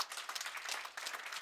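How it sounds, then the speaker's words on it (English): Applause from an audience for a fighter at an MMA press conference, a steady patter of many hands clapping, moderately distant and fairly quiet, with no voices over it. "I want a big round of applause for Kim Farid"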